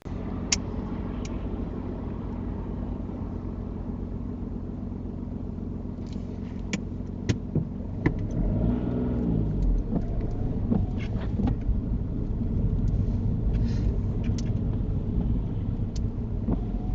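A car drives through traffic during a UK mock driving test, a steady low engine and road rumble throughout with a few sharp clicks, the sound swelling slightly louder partway through; no one talks.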